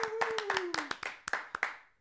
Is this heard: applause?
yes